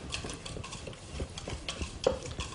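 Utensil stirring madeleine batter of eggs, flour and sugar in a bowl, close and fairly quiet, with irregular light scrapes and taps against the bowl.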